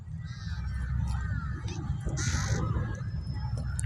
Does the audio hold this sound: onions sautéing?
no